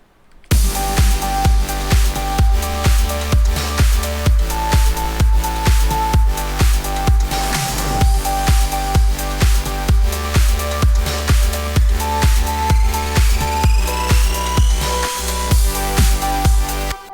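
A gritty, fat synth bass preset with a fattener and sidechain pumps in a steady four-on-the-floor rhythm under a dense electronic mix with a sustained lead, loud and continuous, no voices.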